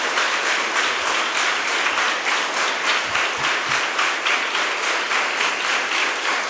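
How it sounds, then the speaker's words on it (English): Nursing students at a college lamp lighting and oath taking ceremony in Mangalore clap together in a sustained, moderately distant round of applause with a faint rhythmic pulse. "full clap. All the boys."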